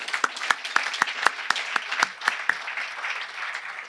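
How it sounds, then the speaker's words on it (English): Audience applause at a corporate economic forum, a modest crowd clapping steadily with sharp individual claps up front, lasting a few seconds before thinning out. "please join me in a round of applause for our corporate partners"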